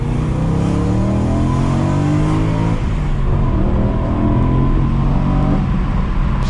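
BMW E93 M3 engine revving hard while driving, loud rising and falling engine tone through several gear pulls, heard close from inside the car.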